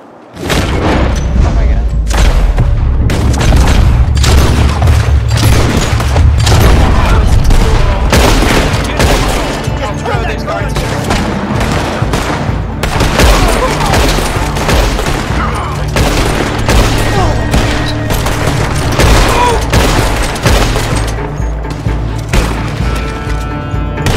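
Dense gunfire shootout in Red Dead Online, rapid loud shots and booming reports overlapping almost continuously for over twenty seconds, with game voices now and then underneath.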